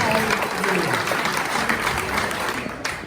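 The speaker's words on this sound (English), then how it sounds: "round of applause for everybody that helps to put together Startup Tech Valley" Audience applause at a startup tech evening event, steady clapping from a room full of people with faint chatter and a voice underneath, fading slightly at the end.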